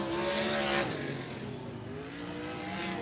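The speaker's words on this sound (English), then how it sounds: "Goodyear, Arizona's Tuesday Calderwood as she takes the win in heat race number 3 in the MPE number 4." Race cars roar around a dirt raceway at Deuce of Clubs Thunder Raceway during a night heat race, engines droning and shifting pitch at a moderate distance in a continuous blended rumble.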